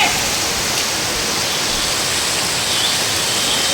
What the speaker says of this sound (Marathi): किती वादळ आले बघा, वादळसारखा पाऊस आला पूर्ण.